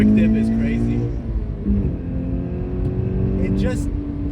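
A Toyota GR86 manual's engine drones at revs with a steady humming tone, mostly covered by close conversation inside the car.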